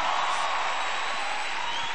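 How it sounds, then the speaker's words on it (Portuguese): Church congregation applauding at an evangelical worship event, a dense, steady wash of clapping and crowd noise that holds at an even level for the whole stretch. "Aplauda Jesus bem forte."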